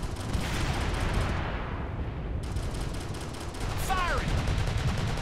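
Sustained gunfire in the military shooter Operation Flashpoint: Red River, a dense, continuous battle barrage of rifle and machine-gun bursts from several shooters, with a whistling streak overhead partway through.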